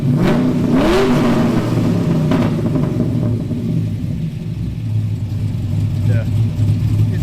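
A big 6-liter swapped engine in a third-generation car revs up with a deep, rumbling exhaust note, then settles into a loud, lumpy idle as people talk nearby.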